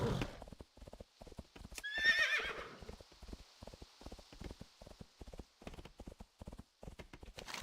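Horse mount in World of Warcraft galloping with a steady, rapid clip-clop of hooves, and a loud neigh or whinny rising briefly near the start over the rhythmic hoofbeats.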